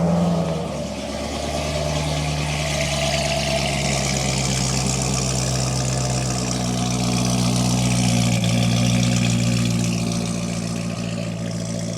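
A Corvette C6 ZR1's supercharged LS9 V8 turns over and settles into a deep, steady idle rumble, loud and close, with the pitch shifting slightly as revs settle; no talking.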